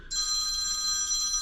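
A phone ringtone plays steadily and fairly loud, a sustained bright ringing with no voices over it.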